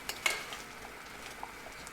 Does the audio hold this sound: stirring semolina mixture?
yes